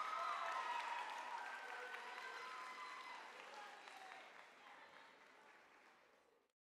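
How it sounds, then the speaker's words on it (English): An audience at an FFA state convention applauds, a dense wash of clapping from a large crowd that starts full and gradually fades away over several seconds, with no speech. "let's give them one last round of applause"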